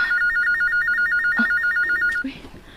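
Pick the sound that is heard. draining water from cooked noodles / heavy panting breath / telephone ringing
telephone ringing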